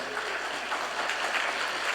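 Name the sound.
church congregation applause welcoming members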